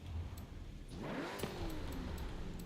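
A car engine in the video game Forza Horizon revs up in a rising, then falling sweep. The revving sits over a faint steady background with small clicks and no talk.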